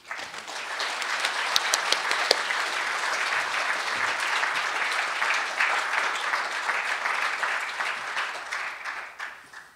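Sustained applause from an audience at an evening symposium as a speaker is welcomed to the podium, steady dense clapping throughout that tapers slightly at the end.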